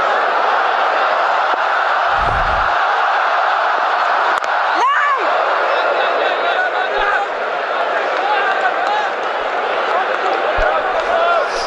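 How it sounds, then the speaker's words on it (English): A home stadium crowd at a Pakistan versus South Africa cricket match roars loudly and continuously, a dense sustained wall of cheering with whoops and shouts rising throughout. "Every boundary just gets roared to the max."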